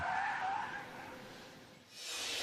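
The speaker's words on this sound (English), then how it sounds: "When Jordan lost control, his fumbling foot hit the brake and the gas." A car skids as the driver loses control, a loud tire screech fading over about two seconds before a second hissing skid rises at the end.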